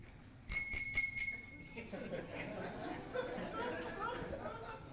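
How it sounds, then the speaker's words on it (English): A hand bell rings with a bright, sustained metallic tone for about a second, followed by a room of people chattering and laughing. "I'm going to ring this bell."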